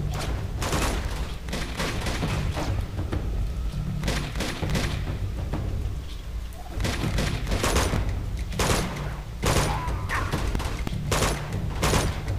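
Gunfire in the video game Uncharted 2: Among Thieves, a dense run of sharp shots and bursts crackling in quick irregular volleys throughout, loud and close, with brief lulls between clusters.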